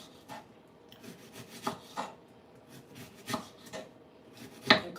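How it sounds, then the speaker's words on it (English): A knife chops onions on a cutting board in a home kitchen, a series of scattered, moderately close cuts and scraping strokes with uneven gaps, ending in a sharper knock. "I'm cutting the onions as much because it's gonna make two."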